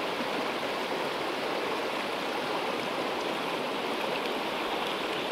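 A mountain stream in the Western Tatras, a steady broadband rush of flowing water, close and even throughout with no other sounds.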